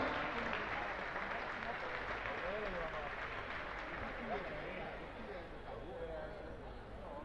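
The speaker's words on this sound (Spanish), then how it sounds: "Perfecto, un aplauso muy fuerte." A crowd at a sports club's season presentation claps steadily and loudly for several seconds, with a babble of voices mixed in under the applause.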